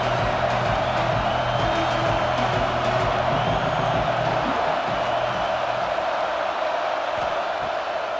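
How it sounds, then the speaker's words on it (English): A simulated college football game with a stadium crowd roaring behind the defense on third down, a steady loud wash of cheering throughout with faint whoops, fading slightly in the second half. "Big 3rd down as the crowd gets behind this defense."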